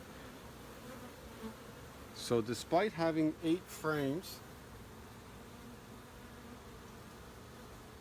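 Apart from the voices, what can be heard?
honeybees buzzing on hive frames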